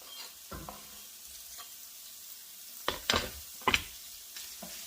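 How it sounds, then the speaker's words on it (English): Andouille sausage and onions sauté in a pot with a low, steady sizzle. A few louder stirring scrapes and crackles come in bursts near the end. "into my onions that are still sauteing. They're not where I want them yet. I'm just going to go ahead and add this andouille sausage."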